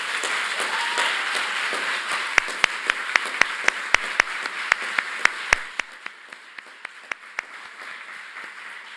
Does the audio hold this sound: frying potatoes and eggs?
no